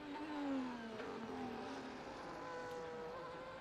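A Ferrari Formula 1 car engine in a racing game, a high whining tone that falls steadily as the car passes, then holds at a moderate pitch, fairly faint and alone.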